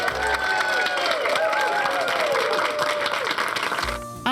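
Applause and cheering from a crowd at the opening of a cat rescue centre, sustained and fairly loud, with tonal squeaks and voices mixed in, ending in a short lull.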